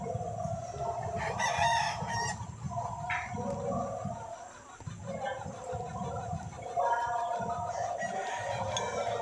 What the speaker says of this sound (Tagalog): tandang natin na topping, nakawala siya sa kulungan